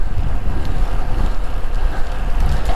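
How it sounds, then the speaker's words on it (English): Loud, steady wind buffeting the microphone while cycling downhill on Usui Pass, Japan, a constant low roar with gusty swells and no talking. "So windy."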